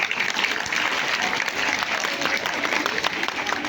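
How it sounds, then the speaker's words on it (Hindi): Parents at a school's annual prize distribution ceremony applaud their children with steady, dense clapping that continues throughout without a break. "मैं सारे वालिदैन से गुजारिश करती हूँ कि अपने बच्चों की हौसला अफजाई के लिए तालियां बजाएं"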